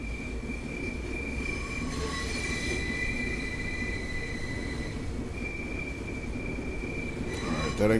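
In Train Sim World 3, a train rolls along the rails with a steady rumble and high, sustained wheel squeals that fade and return, and a louder burst of squealing near the end.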